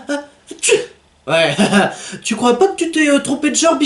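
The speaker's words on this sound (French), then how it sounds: "des éternuements très délicats et silencieux" A man gives a small, delicate, quiet sneeze, a short soft burst near the start, followed by several voices talking over the rest.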